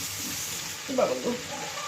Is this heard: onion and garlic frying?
yes